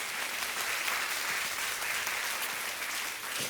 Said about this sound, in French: on peut applaudir bien fort toute l'équipe de louanges